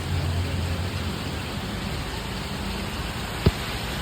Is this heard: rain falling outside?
yes